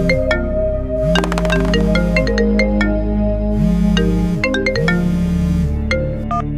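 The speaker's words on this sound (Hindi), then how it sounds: "तभी आर्यन के घर से उसकी मां का फोन आता है।" A mobile phone rings loudly with an incoming call, playing a bright, steady electronic melody of repeating chiming tones that continues throughout.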